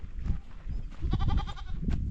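Mountain goats on a high hillside give a wavering nasal bleat, one clear trembling call rising over a low rumbling background of wind and handling noise.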